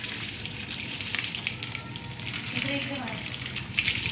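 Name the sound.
water gushing from a tap through a hose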